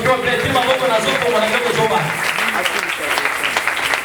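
An audience applauding and cheering at an evangelistic preaching campaign, a dense, loud, continuous clatter of clapping with crowd voices mixed in.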